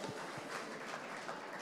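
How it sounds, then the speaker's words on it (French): Audience at a start-up pitch marathon applauding as a founding team is called up to open the session, a soft, even wash of many hands clapping from a distance, steady throughout. "Vous pouvez l'applaudir, s'il vous plaît, lui donner de la force pour ouvrir le bal."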